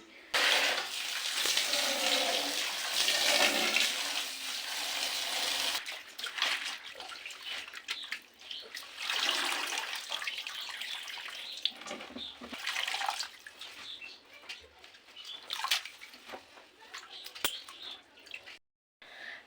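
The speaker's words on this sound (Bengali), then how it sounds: "আমি সব শাকগুলো ভালো করে ধুয়ে নিচ্ছি" Running water splashes over leafy greens being washed by hand, a loud hissing stream that surges and pauses with drips and handling noises.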